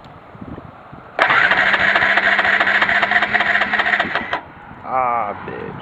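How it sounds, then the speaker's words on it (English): A 2009 Honda CRF250X dirt bike starts with a sudden burst and revs loudly nearby for about three seconds, then cuts off. A voice speaks briefly before and after the engine runs. "Start the bike up for you now."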